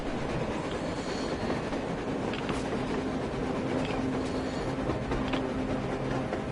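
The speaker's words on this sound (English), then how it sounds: "A train! A damn train on the surface!" A continuous rumbling train sound from the video game Metro Exodus, steady and fairly close, with faint rattling and wheel clatter and no voices.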